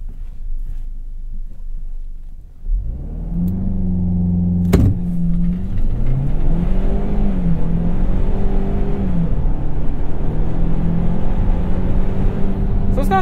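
A 2021 Ford Bronco Sport Badlands in sport mode accelerates from a stop, its engine rising loudly through the gears with audible shifts, heard from inside the cabin without talk.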